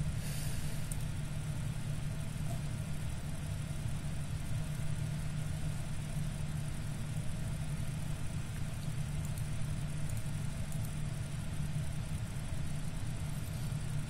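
Rocket engine exhaust in Kerbal Space Program rumbles as a steady, unbroken low roar, constant in level for the whole stretch with no other sounds.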